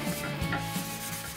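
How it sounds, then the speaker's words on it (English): Close, steady rubbing of sandpaper over wood, a continuous dry scratchy friction with slight shifts in stroke. "Sanding technique, left to right,"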